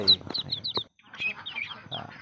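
Barbary ducks on a duck farm making a busy run of high, chirping and clucking calls close by, pausing briefly before the chatter picks up again.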